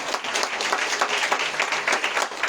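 A church congregation claps steadily through a Sunday worship service, a dense, continuous wash of many hands at moderate loudness with no talking over it.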